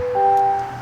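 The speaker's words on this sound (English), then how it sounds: "Sorry for that beeping sound. I'm about to close the door now." A 2024 Chevy Silverado 3500 High Country's door-open warning chime sounds up close as a steady, clear electronic tone, a single sustained beep.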